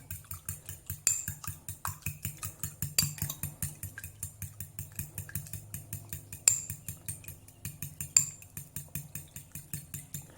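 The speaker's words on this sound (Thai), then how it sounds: "คนคนคนนะครับ" Steamed egg mixture being stirred in a bowl while making betta fry food, a steady rhythmic clinking and scraping of a utensil against the container, repeated quickly with a few sharper knocks.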